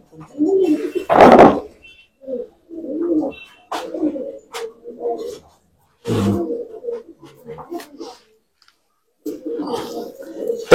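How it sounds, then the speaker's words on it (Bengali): A pair of pigeons being matched in a loft, one a Fulsia hen with blue eye markings, coo in repeated low bursts at close range, separated by short pauses, with a few sharp clicks and knocks in between. "দেখো দুটো পায়রা নিয়ে চলে আসো।"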